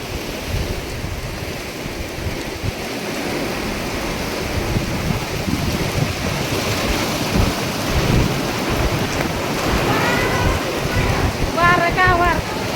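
Steady rain and thunderstorm rumble fill the air outdoors by a large old mansion gateway, a continuous dense wash with low rolling thunder, and a faint voice-like tonal sound appearing near the end.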